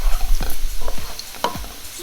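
Onions browning in a pan for lamb chop biryani, a steady sizzle under repeated scraping strokes of a spoon, fairly close and loud, no voices.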